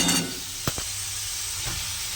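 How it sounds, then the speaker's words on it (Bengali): Cut potatoes and pointed gourd fry in a pan, giving a steady close hiss with a couple of sharp stirring scrapes and no voices. "এবার আমি দিয়ে দেবো কেটে রাখা আলুগুলো"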